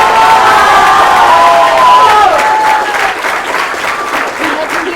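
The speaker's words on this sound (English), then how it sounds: "Let's keep that applause going" A crowd at a university letter-of-intent signing event gives loud, continuous applause with cheering and whoops, high excited voices shouting above the clapping, which stays strong throughout.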